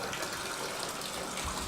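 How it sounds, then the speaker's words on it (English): Cool tap water runs steadily into a slowly draining bathtub during a child's fever treatment, a soft continuous rushing gush that holds at an even level throughout the short stretch with no voices. "we're going to start to run a little bit of cool water in as well."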